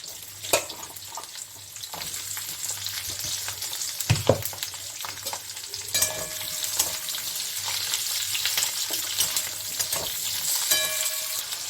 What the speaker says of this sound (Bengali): আমি ওই তেলে ক্যাপসিকামগুলোকে আমি একটু ভেজে নিব, হাই হিটে ভাজবো।